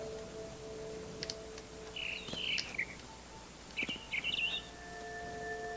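Bird chirps in the video game What Remains of Edith Finch: two short bursts of bright twittering calls, fairly clear over a faint steady hum and ambient background, with no talk.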